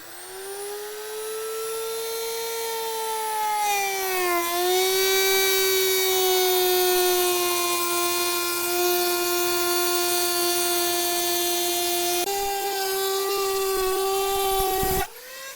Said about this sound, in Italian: Quindi questa è una fresa dotata di cuscinetto, seguirò il bordo di questa tavola di multistrato di pioppo